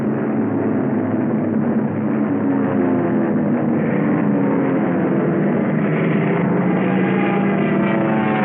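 Carrier aircraft circling over the target during the 1945 battle of Iwo Jima give a steady, loud propeller engine drone that holds without a break and sounds fairly close, with no talk over it.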